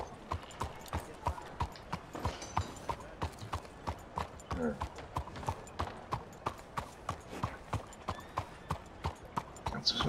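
Steady clip-clop of horse hooves in Red Dead Redemption 2, an even trotting rhythm, close and clear, continuing throughout with faint background sounds.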